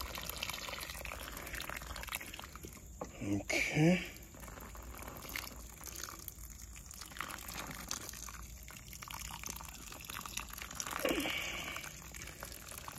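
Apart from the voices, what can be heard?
watering fig cuttings in pots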